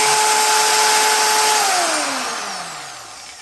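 A high-pitched GEVEELIFE variable-speed buffer polisher sander whines steadily on high speed, then winds down, its pitch sliding lower as it slows to a stop.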